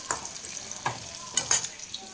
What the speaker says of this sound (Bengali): চলো ভাজি দেখো প্রায় হয়ে গেছে